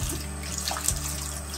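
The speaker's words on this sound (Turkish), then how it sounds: "Ve suyu açıp yıkayalım." Tap water runs steadily from a faucet while hands are rinsed clean of soap lather, a continuous close splashing wash with no talking.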